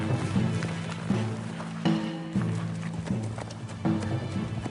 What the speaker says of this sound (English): He was kind of snorting and blowing and stomping a little bit.